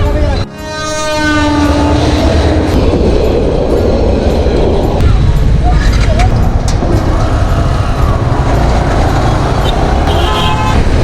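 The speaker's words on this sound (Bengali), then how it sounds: "ট্রেন আসবে, ওয়েল পাসিং।" A train passes close by a road, opening with a loud horn blast and then rolling past with a continuous heavy rumble and clattering wheels for the rest of the stretch, over traffic noise.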